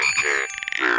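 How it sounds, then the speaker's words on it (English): Animated frogs from a Curious George kids' game give a short burst of loud croaks, a pulsing throaty rattle mixed with bright musical tones, heard alone without speech. "George has found some very musical frogs."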